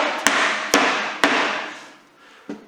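A 2.5-pound dead blow hammer striking wooden Beecastle beehive boxes, three sharp close knocks about half a second apart, then a softer fourth blow after a pause, each followed by a short ringing decay.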